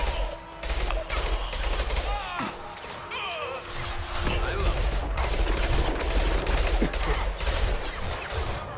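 Gunfire in the video game Mass Effect 2 Legendary Edition, dense rapid bursts and impacts in a loud, continuous firefight with whooshes and crashes, and occasional voices under the shooting.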